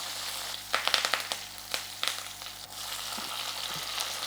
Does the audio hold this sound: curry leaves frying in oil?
yes